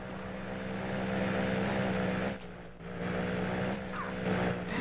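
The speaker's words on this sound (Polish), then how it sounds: "Po pierwsze, to nie jest helikopter, to jest samolot." Fixed-wing airplane engine from the video game GTA San Andreas, a steady droning hum with a propeller-like buzz that dips briefly midway before returning at full level.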